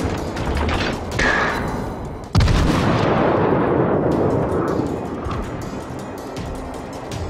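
Heavy naval gunfire in a warship game with a Pensacola cruiser as the target: a booming artillery blast near the start, a second louder concussive salvo around the middle, then a long rumbling roar that decays under sea and engine ambience.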